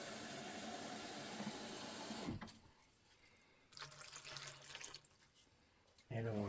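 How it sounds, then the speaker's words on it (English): Water from a tap pours into a teriyaki kabob marinade as a steady rushing hiss for a couple of seconds, then drops to a quieter, intermittent trickle with a brief louder splash near the end. "put a little bit more water in there"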